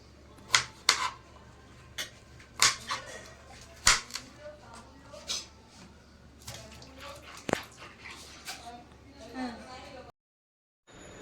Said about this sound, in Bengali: তো এখন সব সবজি টবজি কেটে মাকে সব রেডি করে দিচ্ছি।